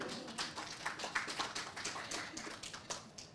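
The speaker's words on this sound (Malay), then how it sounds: "kita boleh tepuk tangan supaya tak mengantuk" A small audience at a university MoU signing ceremony claps together, with distinct individual claps forming a brisk, uneven patter that swells and then thins out.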